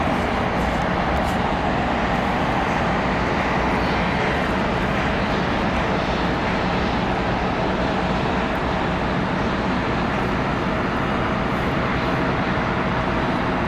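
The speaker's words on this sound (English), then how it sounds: "Got a Air Tahiti Nui Dreamliner." An Air Tahiti Nui Boeing 787-9 Dreamliner airliner near LAX gives a steady, loud broadband jet roar that holds evenly throughout, with no talking.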